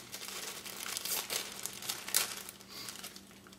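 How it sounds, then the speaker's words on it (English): Ramen noodle package being cut open, close and quiet plastic crinkling and rustling in irregular bursts with a short sharp crackle in the middle. "you're going to want to cut open the ramen noodle package"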